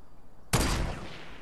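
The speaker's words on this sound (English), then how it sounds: "Yeah, I sniped at him." A sniper rifle shot in Fortnite cracks out loud and sudden from near silence, a single sharp blast whose echo tails away over about a second.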